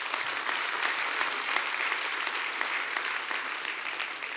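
Loud, continuous applause from an audience at an LIC agency awards event, an even wash of many hands clapping throughout.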